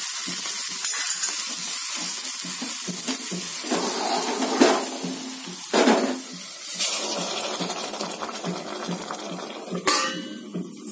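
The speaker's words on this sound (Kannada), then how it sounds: "ಈಗ ಇದನ್ನ ಸಾಂಬಾರ್ ಪಾತ್ರೆಗೆ ಹಾಕೊಳ್ಳೋಣ." Hot tempering for village-style sambar, made with fresh field beans, is poured into the pot, giving bursts of sizzling and crackling that flare and fade over steady kitchen noise, with no talking.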